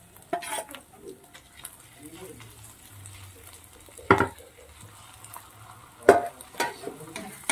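Tomato puree frying with spices in a pan, a low soft sizzle broken by a few sharp clinks and scrapes of a spoon stirring, with quiet talk in between.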